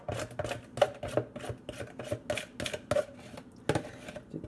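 Spoon scraping coconut sugar out of a bowl during baking, a quick run of close, crisp scrapes and clinks against the bowl in an irregular rhythm.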